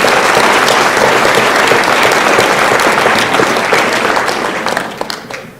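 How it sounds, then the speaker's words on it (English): An audience at a school fall sports awards night gives a loud, sustained round of applause for student athletes, dense and steady before tapering off in scattered final claps. "Let's give those athletes all a round of applause"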